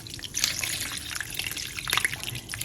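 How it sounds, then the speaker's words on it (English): Water poured from close by into corn dough in a pan while Fante kenkey is being made, a steady splashing trickle that swells and fades over a few seconds with no talk. "I'll go ahead and add the water."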